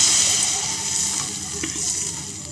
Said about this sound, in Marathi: आता आपण याला पाणी सोडणार आहोत.